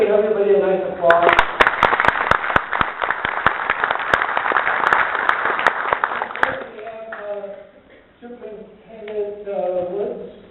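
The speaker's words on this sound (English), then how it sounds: "let's give everybody a nice applause." Audience at a Southfield State of the City event breaks into loud sustained applause lasting several seconds, then fades as a speaker's voice returns.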